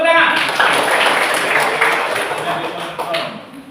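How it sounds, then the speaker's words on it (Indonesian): A classroom of students bursts into dense applause that holds for a couple of seconds and then tapers off, with voices mixed into the clapping. "bagus, tepuk tangan"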